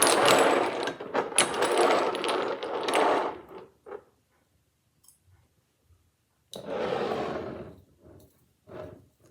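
Herbs and oils mixed together in a small vessel for a candle, producing rapid clicking and clattering that runs for about four seconds, breaks into near silence, then returns in a shorter burst and a few scattered taps.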